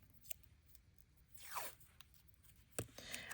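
Washi tape is peeled off its roll with a rising, ripping strip of sound near the middle, along with a few sharp clicks and light crafting rustles in a quiet room.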